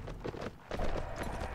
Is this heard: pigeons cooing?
no